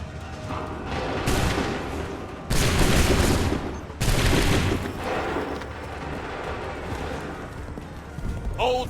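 Musket volleys fire in Assassin's Creed III Remastered, dense crackling bursts of many shots at once that roll and fade, with shouted commands and a battlefield din of voices and movement between them.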